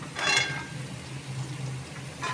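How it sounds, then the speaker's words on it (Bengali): Pointed gourd and potato pieces frying in a pan, a soft steady sizzle with brief louder bursts of stirring at the start and end, no voices. "পটলগুলো যতক্ষণ না লাল হচ্ছে ততক্ষণ ভাজতে হবে"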